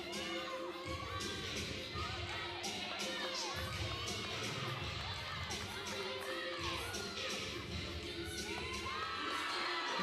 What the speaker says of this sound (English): I love that Eastern is over here cheering her on